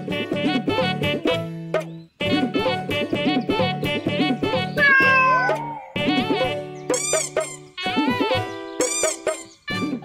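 A cat meowing loudly and insistently, a near-continuous string of close, drawn-out cries that rise and fall in pitch, with a brief pause and some sharper yowls toward the end.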